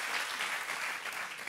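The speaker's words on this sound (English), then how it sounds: "clap your hands again" An audience claps hands at a sports data event welcoming an Olympic gold medalist, a fairly quiet, steady wash of applause that fills the short moment without voices.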